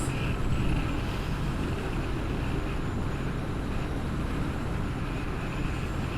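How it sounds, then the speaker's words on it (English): Heavy wind roar buffets inside a rider's helmet on a 2021 Triumph Street Triple R, a dense continuous rushing noise with the bike's engine faintly underneath, loud and steady throughout. "it sounds like a lot of wind"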